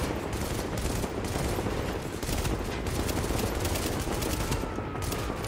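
Enemy gunfire in the video game The Division, a dense continuous barrage of rapid shots filling the scene at steady high loudness with no pauses.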